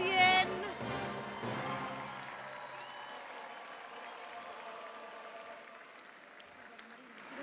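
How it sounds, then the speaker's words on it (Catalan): A crowd in Sant Cugat applauds the arrival of the Three Kings at a street event, the clapping loudest at first and then settling into a long, steady ovation that slowly fades. "un fort aplaudiment pels Reis d'Orient"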